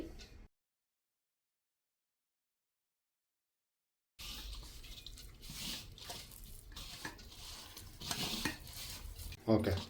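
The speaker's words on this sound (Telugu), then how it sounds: "పిండిని ముద్దలాగా కలిపేసేసుకున్నాను చూడండి" Dough made from Bombay rava (semolina) is kneaded by hand in a bowl into a soft ball, giving close, wet squelching and knocking against the bowl after a long silent gap, with brief sharper clinks near the end.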